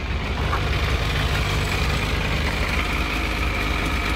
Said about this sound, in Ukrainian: Мінімум у нас піднявся. Холостий хід піднявся, знову балом.